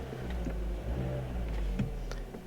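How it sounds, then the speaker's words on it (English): A 2010 Vauxhall Corsa D 1.2 petrol engine, whose revs hang high during gear changes, runs with a steady, low, fairly quiet hum that holds an even pitch throughout. "let's put the revs up, clutch in and out"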